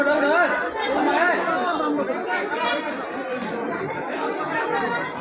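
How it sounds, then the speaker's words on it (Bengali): Dense chatter from a crowd gathered at a railway station gate at Durgapur at night, many overlapping voices steady and close throughout. "গেটের মুখে ভিড়।"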